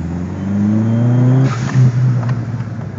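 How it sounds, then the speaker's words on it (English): A Dodge Neon SRT-4 pulls hard in second gear, its engine note rising steadily as the turbocharged car accelerates, heard from inside the cabin, with a brief dip near the shift and the drone continuing close and loud. "Here's a second gear pull."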